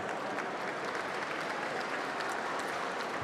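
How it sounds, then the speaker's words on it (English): Audience at an awards gala applauding, steady dense clapping from many hands at an even level throughout, with no voices over it. "Let's give them a round of applause."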